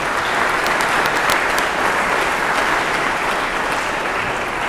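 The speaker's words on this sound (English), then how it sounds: "so clap for him" A lecture audience in a large auditorium at the Engmann-Klufio-Datsa Commemorative Lecture claps for a young questioner, producing dense, even applause that fills the hall continuously at a loud level.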